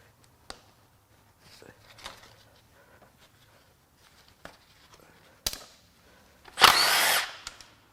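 A power tool spins off bolts on a BMW M54 intake manifold at the cylinder head. One loud, short burst of about a second comes near the end, after quiet workshop clicks and light handling sounds.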